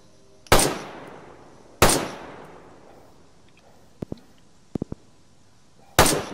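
Three loud, sharp gunshots from DayZ ring out well apart, each trailing off in a long echoing decay, with a few faint quick clicks between them.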